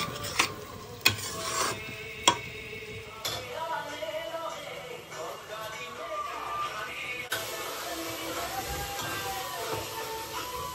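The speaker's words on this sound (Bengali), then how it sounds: "এখানে মশলাটা এখন কষানো হচ্ছে, তারপরে মাংস দেব" Spices sizzle softly in a pan as they are sautéed, with a scraping spatula stirring rhythmically and a few sharp clanks early on, close but fairly quiet.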